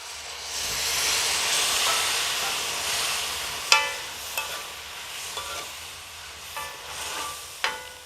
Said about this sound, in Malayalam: രണ്ടാം പാലാണ് ഒഴിച്ചു കൊടുക്കുന്നത് കേട്ടോ